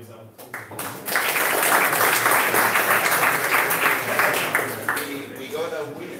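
A room full of people at a tech meetup clapping together, a dense burst of applause that swells after a brief start and holds steady before tapering, with some voices mixed in.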